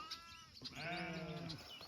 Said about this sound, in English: Just listening to the sheep.